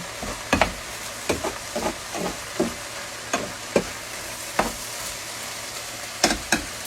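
Onions frying in a pan until translucent while being stirred: a soft, continuous sizzle under a run of sharp scraping and tapping stirs that come irregularly, close by and fairly quiet.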